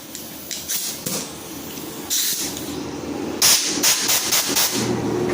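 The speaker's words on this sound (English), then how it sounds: "using some compressed air," Compressed air blasts through a small engine carburetor in several loud, close hissing bursts of varying length, separated by brief quieter gaps.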